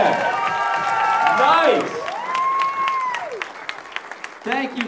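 A crowd claps and cheers for a participant at a radio station Ford Mustang giveaway event, the applause rising and fading between loud, close voices, with a short whoop near the end.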